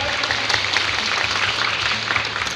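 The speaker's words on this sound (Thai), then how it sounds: "ขอเสียงปรบมือหน่อยครับ" Steady applause from an audience clapping for young performers at a family visiting day at Chakrabongse camp in Prachinburi, dense and even throughout without a break.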